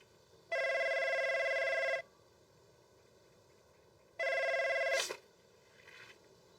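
An old-style telephone bell rings in two long electronic bursts separated by a pause, the second cut short as the receiver is lifted with a clunk; quiet room tone otherwise, no talking.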